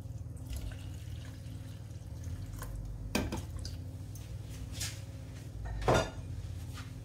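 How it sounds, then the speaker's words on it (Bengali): Water poured into a cooking pot while making homemade baby food with salt and turmeric, soft trickling and splashing with two short, louder pours standing out over a low background hum. "এখন আমি পানি অ্যাড করলাম"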